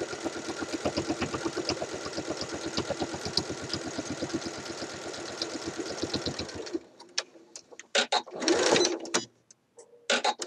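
Sewing machine stitching a collar seam on a Simplicity 8014 shirt dress, a fast steady mechanical rattle for several seconds that stops, followed by brief handling noises.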